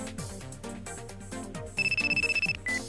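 An electronic telephone ring pulses in a fast, bright burst in the Japanese shogi mystery game Senri no Kifu, cutting in over ongoing background music near the end.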